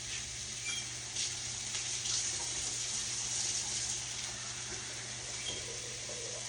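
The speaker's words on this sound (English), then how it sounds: "All right, let me rinse the hands off." Tap water runs steadily into a kitchen sink while hands are rinsed beneath the stream, a soft continuous splashing close by with faint bursts of spatter.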